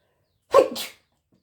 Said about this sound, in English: I had to sneeze again.